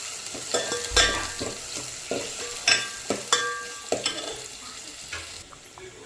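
Chicken biryani being stirred in a pot, repeated close scraping and clattering strokes of a spoon against metal over a low sizzle, with uneven bursts through the whole stretch.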